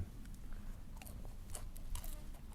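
Someone crunches on fried soft-fleshed fish with garlic at a Mekong riverside camp in Khong Chiam, Ubon Ratchathani; faint, close crisp bites and chewing over a low background rumble, with no talking.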